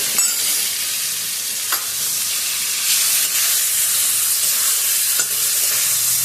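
Pointed gourd and spices fry in oil in a pan, a steady loud sizzle and hiss running throughout with occasional soft stirring scrapes, no voices.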